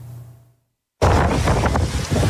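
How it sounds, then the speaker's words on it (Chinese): After a near-silent half second, a loud, steady rush of wind roars in abruptly and holds, recorded at night beside a Canadian wildfire in a lakeside area of British Columbia east of Vancouver. "橘红火光伴随呼啸风声，加拿大野火没完没了"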